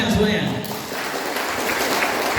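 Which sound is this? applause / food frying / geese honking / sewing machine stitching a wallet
applause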